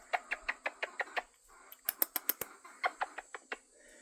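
A run of short, clipped bird calls in quick rhythmic bursts, a pause, then another rapid series, close and fairly loud, like a hen clucking.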